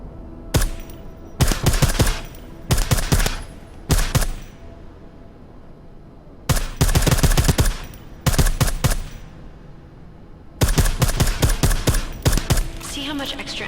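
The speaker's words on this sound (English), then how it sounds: "I like how silencers reduce sound, but the trade-off is less stopping power," Repeated bursts of silenced automatic gunfire from the Deus Ex: Mankind Divided video game, several loud clusters of rapid shots separated by short pauses, with faint game ambience between volleys.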